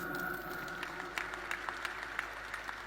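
A church congregation claps for Jesus Christ during a sermon: quiet, scattered claps stand out against a soft background hum, coming at uneven intervals at a distance.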